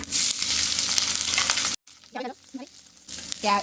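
Sliced onion and green chillies drop into hot oil with cumin seeds for a cabbage peas curry, giving a loud continuous sizzle that breaks off briefly, followed by quieter crackling and a couple of short hissy bursts.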